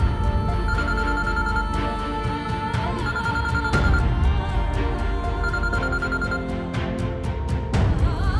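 A telephone rings repeatedly in an indoor drama scene, bright electronic bell tones pulsing in steady bursts, loud and close with no voices over it.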